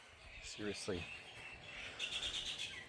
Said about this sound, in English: Wish these birds would piss off.